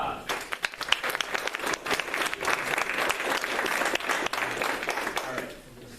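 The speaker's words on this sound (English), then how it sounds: "Everyone give him a round of applause." Audience applause at a magic show, dense sustained clapping from a crowd filling the whole stretch, loud and close, tapering slightly at the end, with a voice briefly audible underneath.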